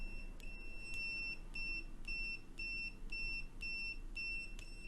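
Aneng 620A multimeter on continuity test sounding a series of short, evenly spaced high-pitched beeps, about eight in all, clean and fairly quiet over faint background hum with no talking.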